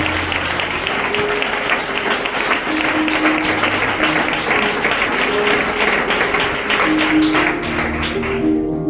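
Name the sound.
audience applauding in a church service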